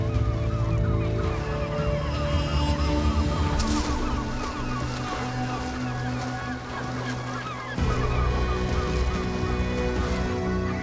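Herring gulls call and squabble over fish left by whales at sea, a dense, loud chorus of overlapping harsh squawks and honking cries that goes on without pause.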